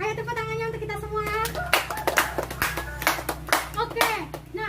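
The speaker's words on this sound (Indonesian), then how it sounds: "Ayo tepuk tangannya untuk kita semua." Children clap together in scattered, uneven bursts while young voices chatter and sing-song over the top, close by and fairly loud.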